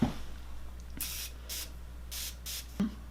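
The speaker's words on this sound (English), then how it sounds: "spray your brush tip with the continuous setting mist or water" Several short bursts of Morphe setting spray mist onto a makeup brush tip hiss in quick succession, close up and fairly quiet, with a brief soft tap at the start and end.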